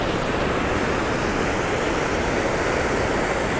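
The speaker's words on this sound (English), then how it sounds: "Right next to the waterfall." Steady, loud rush of falling water, a continuous broadband roar with no breaks or voices.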